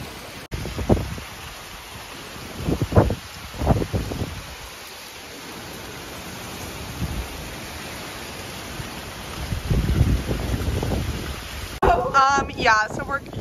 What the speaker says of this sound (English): it's currently flooding and it's so windy right now